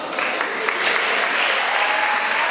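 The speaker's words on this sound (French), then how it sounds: "On peut applaudir bien plus fort que ça." Crowd at a debate competition final between Bonsomi and Vedruna breaking into brisk, steady applause, a dense wash of clapping throughout the short stretch.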